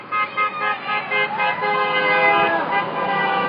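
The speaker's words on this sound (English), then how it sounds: "people that honk for support" Car horns honk from passing traffic on a busy road outside a protest at the Monsanto gates, several short toots followed by a longer sustained blare, fairly close and loud.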